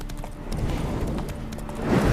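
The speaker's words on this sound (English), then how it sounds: "Spooking my horse." A horse in The Witcher 3: Wild Hunt (Hearts of Stone) walks with repeated hoof clip-clops near the listener, the steps rising slightly in loudness toward the end; a whinny is not clearly evident.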